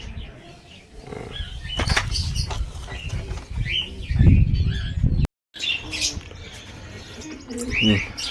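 Pigeons at a morning feeding, with cooing and chirps mixed with bursts of wing flapping close by, a brief silent gap midway, and a voice speaking at times.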